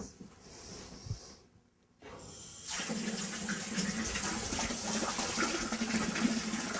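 Water pours from a tap into a 2-liter beaker with a steady gushing splash after a brief pause. The flow rises to a close, continuous rush.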